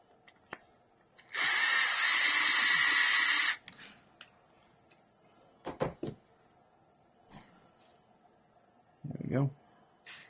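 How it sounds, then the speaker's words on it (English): Small handheld drill enlarging a magnet hole in a 1/4-scale Narin Hellboys model: one loud, close whirring burst of about two seconds, followed by faint clicks and handling knocks in a quiet room. "I want to drill that hole a little bit more."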